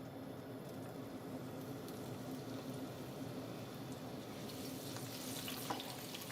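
Garlic sizzles in oil in a pan for a Brazilian fish stew, a steady close crackling hiss that brightens toward the end, with no talking.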